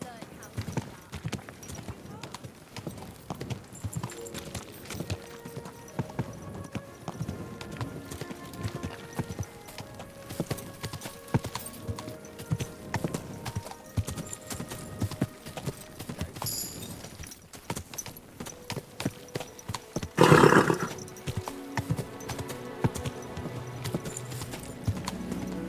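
Horse hooves clip-clop in a steady walking rhythm while riding in Kingdom Come: Deliverance II, continuous and close, with a brief neigh or snort midway and occasional spoken voices over the hoofbeats.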